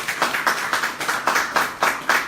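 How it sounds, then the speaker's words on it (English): A church congregation claps for the choir after a worship service, a quick run of sharp, fairly close hand claps in an uneven rhythm, with no talking. "Clap for yourself,"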